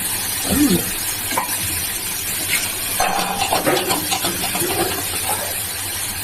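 Chicken pieces fry in hot oil in a home kitchen, a close, steady sizzle with spoon scrapes and stirring clatter against the pan, and someone speaks briefly over it.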